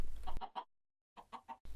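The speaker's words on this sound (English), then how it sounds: "I've got some chickens just hanging around." Chickens in a video game cluck in short bursts, a few quick clucks, a pause, then several more, fairly close and clear with no talking.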